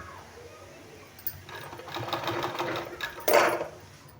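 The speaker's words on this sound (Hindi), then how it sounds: "इस तरह से दोनों को मिला के सिलाई कर देना है इस तरह से।" A sewing machine stitches two colored fabric strips together, its motor whirring up in a close, rapid run that rises and grows louder near the end, while a person talks over it.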